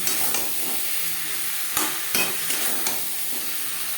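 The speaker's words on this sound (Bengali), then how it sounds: "আলুর সাথে টমেটো বেশ ভালো করে মিক্স করে দেবো" Potatoes and tomatoes with spices are stirred in a sizzling pan, a spoon scraping and knocking against the metal a few times over a steady frying hiss.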